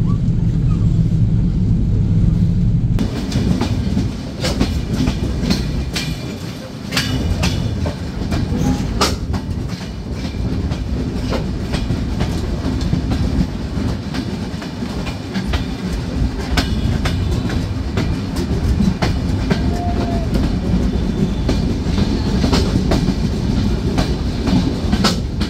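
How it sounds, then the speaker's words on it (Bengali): The Dhumketu Express on the Dhaka–Rajshahi line rolls steadily out of Jamtal railway station, its loud continuous rumble and clickety-clack of wheels on rail joints filling the whole stretch, heard from on board. "ট্রেনটি ছেড়ে যাচ্ছে জামতল রেলওয়ে স্টেশন।"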